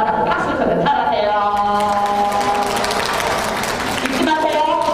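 A seated lecture audience of women farmers claps together in a continuous, even wash of applause lasting the whole stretch, with a voice speaking and calling out over it.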